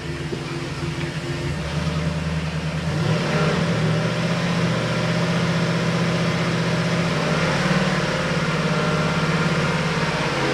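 Twin MerCruiser 8.1L big-block V8 inboard engines on a 2003 Sea Ray rise from idle to a steady higher-RPM drone, a loud continuous hum that climbs after a couple of seconds and holds, with no talking.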